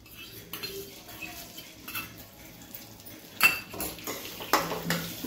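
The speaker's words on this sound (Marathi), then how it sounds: "आता परत 1 मिनिटभर आपण छान असं रवा परतून घेऊया।" Semolina being stirred and roasted with ghee in a pan, with irregular metal clinks and scrapes of a spoon against the pan, sharper knocks toward the end, close and fairly quiet.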